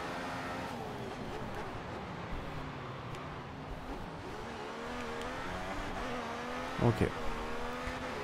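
Formula 1 race cars in a modded racing video game at an Italian Grand Prix start, engines whining and revving steadily with rising and falling pitch, a brief thump near the end, a voice speaking briefly over them.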